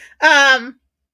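A 13-year-old cat gives a single loud, close, drawn-out meow lasting under a second, then silence.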